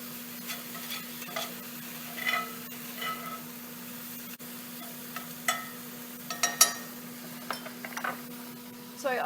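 A stuffed eggplant mixture is stirred in a pan with a soft, gentle sizzle beneath, punctuated by scattered clinks and scrapes of a utensil against the cookware, fairly quiet and close.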